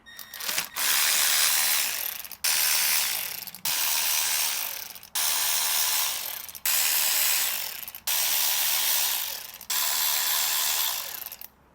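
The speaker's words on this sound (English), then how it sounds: "we're just going to unbolt these 7mm bolts that are holding the actuator to the transmission" Ratchet wrench clicking steadily as it backs out 7mm bolts holding the actuator to a Ferrari F430 transmission, in six loud, even bursts of rapid ratcheting separated by short pauses, with no talk.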